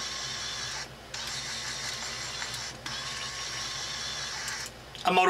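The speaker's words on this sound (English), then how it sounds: "A motorized rudder. Pretty nifty." A small motorized rudder on a model 64-gun ship of the line whirs steadily in a near, mid-pitched mechanical hum, cutting out briefly twice and ending with a louder burst.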